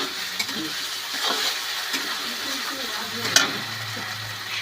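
Food fries in a home kitchen pan with a continuous crackling sizzle, broken by scraping stirs and a couple of sharper utensil knocks, close and fairly loud.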